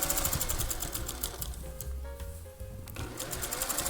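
A sewing machine stitches the bottom ruffle onto a redone flannel shirt, running steadily close up with a continuous whirring drone that eases briefly midway before resuming at full speed.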